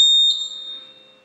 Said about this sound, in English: It is coming from the fire alarm, but that's not a fire alarm.